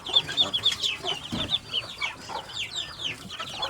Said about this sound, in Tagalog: Ang daming bibi. Marami pang mampipisaan ito na itlog.